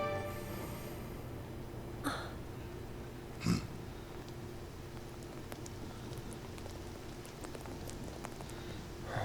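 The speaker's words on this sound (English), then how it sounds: "And it is raining." Steady rain falls over Midgar in Final Fantasy VII Remake, a soft even hiss throughout, broken by a couple of brief sharp knocks, with no voices.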